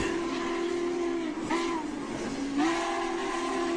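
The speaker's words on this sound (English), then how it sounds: "Oh, there's nothing like a steam whistle on a big train." A big steam train sounds a long, steady whistle with a few pitch bends, fairly loud, over a continuous rumbling rail background, with no talk over it.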